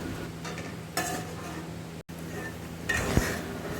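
Salted hilsa fish curry gravy being stirred in a cooking pan, soft scraping strokes over a low steady sizzle with a few faint utensil clinks.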